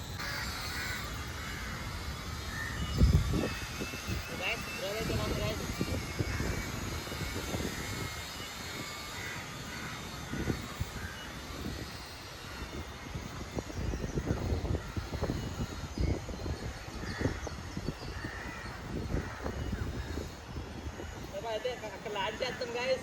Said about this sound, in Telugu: డ్రోన్ అయితే పైన ఆడే ఎగురుతుంది గైస్,